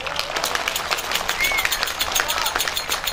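A crowd at a Turkish village festival in Muğla claps steadily and densely throughout, lively applause with a voice faintly audible underneath.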